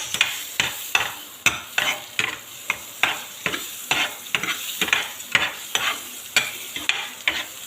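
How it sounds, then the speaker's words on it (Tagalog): Garlic sautés in butter in a pan while a spatula scrapes and stirs in a quick, steady rhythm of roughly two strokes per second over a bright sizzle. "So, igigisa natin ngayon."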